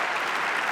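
A crowd gives a brief, dense burst of clapping that is close and loud and stays steady.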